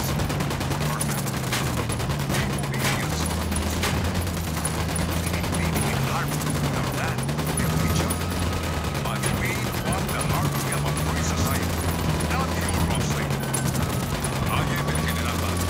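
Combat in Ghost Recon Wildlands, with steady dense gunfire and battle noise over a continuous low rumble and a droning tone, staying at an even loudness throughout.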